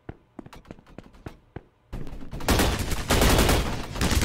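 Gunfire in the Roblox shooter Energy Assault: a string of separate single shots, then a dense, loud burst of rapid automatic fire that continues to the end.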